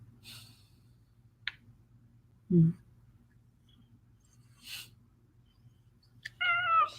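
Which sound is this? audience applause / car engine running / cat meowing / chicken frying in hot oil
cat meowing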